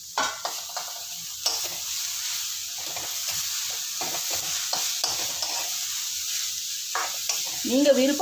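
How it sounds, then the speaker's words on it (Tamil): Onions and carrot sautéing in a pan, with a steady close sizzle broken by repeated scraping stir strokes of a utensil, no voices. "ரெண்டு நிமிஷம் வெங்காயம் நல்லா வதங்கட்டும்."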